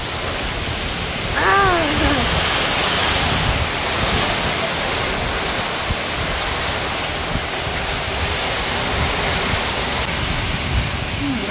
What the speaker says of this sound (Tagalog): Sana naman po tumigil na po ang ulan at hangin.